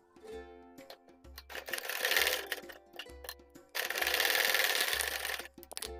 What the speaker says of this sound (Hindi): तो चलिए सिलाई लगा लेते हैं।